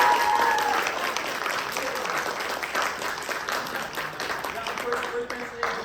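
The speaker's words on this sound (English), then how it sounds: "big round of applause for me" An audience at a music talk applauds in a sustained, dense wash of clapping that carries on for several seconds, with voices faintly mixed in.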